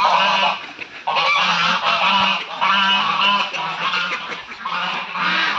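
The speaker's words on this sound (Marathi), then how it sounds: "हे एक पूर्णतः एक्झॉटिक पक्षी आहेत, हे तुम्ही इथे पाहू शकता" Exotic birds at Bosom Farm in Kerala call loudly, giving close, repeated goose-like honks that overlap in a near-continuous chorus with no talk.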